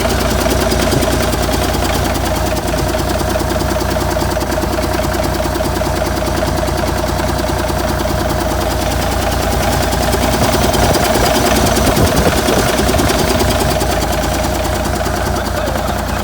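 Engine of an abandoned Versatile 895 tractor running, a loud steady close rumbling idle with a rough mechanical clatter throughout and no talk.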